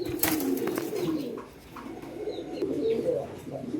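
Pigeons coo close by in soft, repeated rolling calls, with faint background noise.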